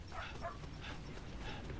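A dog in a video game barks in faint, muffled yips, about four short bursts spread evenly over a low, steady background hum.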